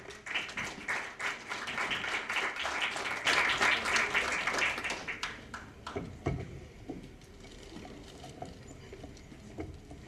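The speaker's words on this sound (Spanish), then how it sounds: "El aplauso para recibirlo." Audience applause greeting a speaker at the Virtual Educa Andean Forum, a university event; lively clapping builds, holds for several seconds, then thins out into scattered claps before fading.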